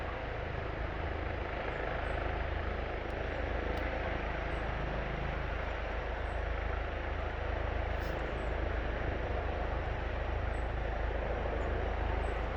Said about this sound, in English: I hope you can still hear me above the helicopter.